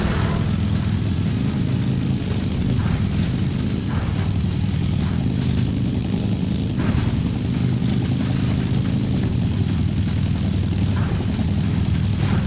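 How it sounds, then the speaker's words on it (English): Video game Fuel: a helicopter's engine and rotor make a loud, steady drone that continues unbroken throughout, mixed with rumbling vehicle engine noise and no talking. "The helicopter appears to have slowed down to allow me to get ahead of it."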